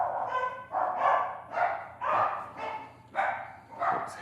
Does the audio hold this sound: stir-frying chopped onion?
no